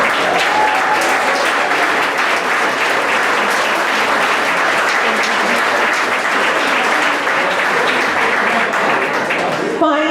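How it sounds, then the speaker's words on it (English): Sustained applause from an audience at a 50th class reunion for Benson High School's class of 1972, steady dense clapping filling the room for the full stretch with some crowd noise mixed in. "So let's give this group a round of applause."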